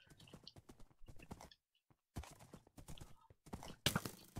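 Horse hooves clatter in quick irregular bursts in a Minecraft game, sharp and close, with short silent gaps and a brief neigh-like burst near the end.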